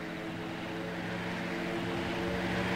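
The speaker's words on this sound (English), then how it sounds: "Sounds suspiciously like a plane." A propeller airplane drones overhead in the survival game Rust, a steady, continuous engine hum with a low tonal buzz holding evenly throughout, moderately distant and heard alone without voices.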